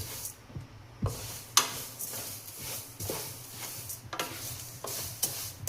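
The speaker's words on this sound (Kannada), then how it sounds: "ನೀಟಾಗಿ ಹುರ್ಕೊಳ್ಳಿ ಅವಲಕ್ಕಿನ" Flattened rice (poha) dry-roasted and stirred in a pan, giving soft scraping and rustling with light periodic knocks of the spoon against the pan, fairly quiet with no talk.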